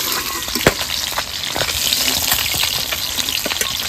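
Fish fry in hot oil with a steady, dense sizzle and crackle, sharp pops and spatters breaking through now and then, close and loud throughout.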